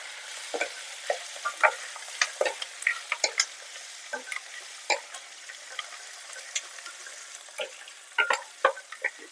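Garlic and onion with a pinch of asafoetida sautéing in oil, a continuous light hiss of frying punctuated by frequent sharp spatula scrapes and clinks as they are stirred.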